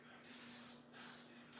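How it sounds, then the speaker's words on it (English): Canola oil cooking spray hisses from an aerosol can into a glass baking pan in three short bursts, close and fairly soft, each spray a steady rushing hiss with brief pauses between. "We are going to use just a canola oil cooking spray."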